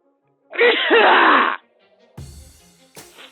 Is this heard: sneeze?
yes